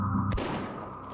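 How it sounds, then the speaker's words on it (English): One sharp gunshot in the turn-based tactics game Dreadlands, a single crack with a short fading tail over a steady background music bed. "Or I can just shoot this guy twice."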